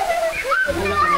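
Shower water pours steadily in a constant hiss, with people talking over it nearby.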